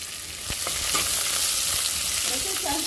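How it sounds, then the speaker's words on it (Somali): Onions sizzle and fry in hot oil in a pan, a dense continuous crackle with occasional sharper pops and a faint stirring scrape, close and steady throughout. "saliidan saaray dabka way kululaatay hadda waxaan ku darayaa basasha"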